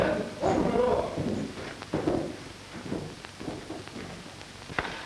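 A horse's hooves clop in an old Hollywood western scene, soft irregular thuds at moderate distance under low, tense dialogue.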